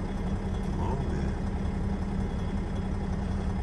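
Long-haul semi truck engine idling at a parking area, a constant low, rumbling drone with steady texture throughout, close and unbroken, with no talking.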